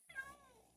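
A cat meows once in the video game Minecraft, a short rising then falling call that is close and clear, alone without talk over it.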